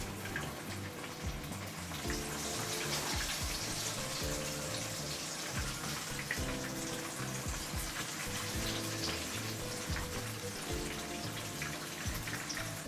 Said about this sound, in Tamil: மீனை நம்ம எண்ணெயில் போட்டு கொஞ்ச நேரம் ஆன பிறகு இன்னொரு பக்கம் திருப்பி போட்டுருங்க